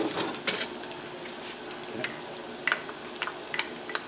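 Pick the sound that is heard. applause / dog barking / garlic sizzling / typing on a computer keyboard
garlic sizzling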